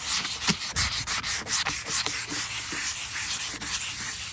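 Wet sandpaper works over a yellowed plastic headlight lens in quick, rhythmic rubbing strokes, close and fairly loud, each pass a soft swishing scrape repeating steadily without speech.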